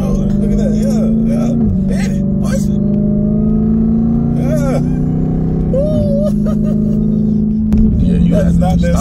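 A Jeep Trackhawk accelerating hard from inside the cabin, its loud engine droning and climbing through several gear changes over nine seconds, with excited voices talking and shouting over it.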